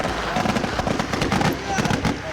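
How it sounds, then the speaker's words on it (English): Distant gunfire crackles during a tear-gas clash in Gaza and Israel as a rapid, uneven run of sharp pops over a noisy outdoor background, with voices mixed in. "It's like they're firing over there now."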